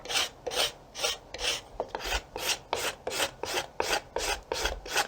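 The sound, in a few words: scraper removing bark from wooden self bow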